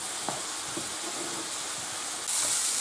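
Ingredients sautéing in a pan for arroz a la milanesa, giving a steady close sizzling hiss that swells louder near the end, with faint stirring clinks.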